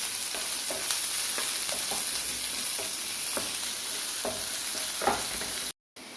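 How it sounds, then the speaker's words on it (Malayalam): Onions sautéing with salt in a hot pan for a sprouted green gram stir-fry: a steady, close sizzle with scattered scraping clicks of a spatula stirring, and no talking. "അതിലേക്ക് നമുക്ക് ഈ സവോള ഇട്ട് കൊടുക്കാം. സവോള വേഗം വഴലാനായിട്ട് കുറച്ച് ഉപ്പിട്ട് കൊടുക്കാം. ഇനി ഇതൊന്ന് വഴറ്റിയെടുക്കട്ടെ."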